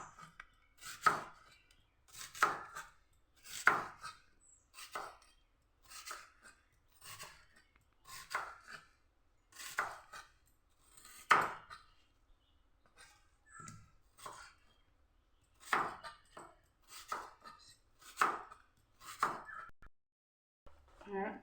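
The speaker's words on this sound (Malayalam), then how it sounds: "ആദ്യം ഉള്ളി നമുക്ക് മുറിക്കാം, നീളത്തിൽ മുറിക്കാം" Knife slicing an onion lengthwise on a cutting board, a steady series of about fifteen crisp, close cutting strokes in an even rhythm with brief pauses, no voices.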